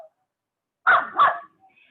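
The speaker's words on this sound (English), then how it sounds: "My dog's barking." A dog gives two quick barks in a row, faint and a little distant, inside an otherwise quiet room.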